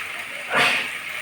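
Water poured into a hot pan of frying potatoes and spices for a vegetarian potato and pointed gourd dish: one short, sharp sizzling hiss that swells and fades within a second.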